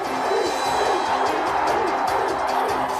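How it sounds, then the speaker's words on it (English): A hometown crowd at a college football game cheers after a brawl on the field, making a dense, steady roar of voices that stays loud and constant throughout. "the cocky chief raises his arms to the cheers of the hometown crowd"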